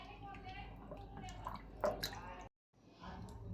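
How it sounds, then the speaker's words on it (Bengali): Tomatoes are rinsed in water with wet drips, splashes and squishy handling sounds close up, a short silent gap, then more washing resumes. "এখন আমি ভালোভাবে ধুয়ে নিই টমেটোটা।"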